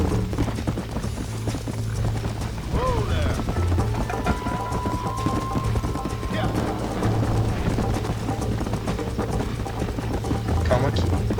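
A horse gallops with rapid, steady clip-clop hoofbeats in the Wild West video game Red Dead Redemption, loud and continuous under a player's talk and game music.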